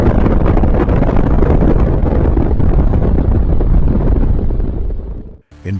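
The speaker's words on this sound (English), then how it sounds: "the Tsar Bomba detonates. A 50-megaton blast, the largest nuclear explosion in human history." A massive nuclear blast effect for the 50-megaton Tsar Bomba detonating over New York City, a loud sustained roaring rumble that holds, then cuts abruptly to near silence.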